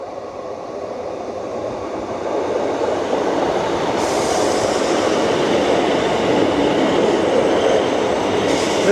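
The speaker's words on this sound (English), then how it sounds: "our train is approaching in the distance" A train rumbles steadily closer at Eastrington station, its roar growing louder over several seconds, with a faint high hiss of wheels on rails.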